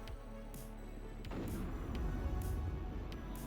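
A LAW rocket is fired at a tank in a video game, with a sharp crack followed by a rolling explosive rumble over continuous battle din and faint repeated hissing bursts, no speech.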